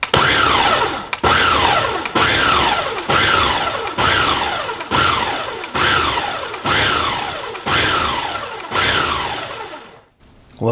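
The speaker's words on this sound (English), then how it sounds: "I'm going to be a wimp and put my salsa in the blender" A blender pulses bacon salsa in about ten short, loud bursts, each a whirring motor surge that quickly dies away, with no talking.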